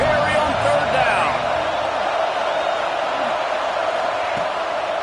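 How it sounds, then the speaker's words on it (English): Oklahoma Sooner fans roar on third down at the Palace on the Prairie during a UNC vs Oklahoma football game, a thick, sustained stadium din that stays loud from start to finish. "The Sooner fans booming, a cacophony of noise at the Palace on the Prairie on third down."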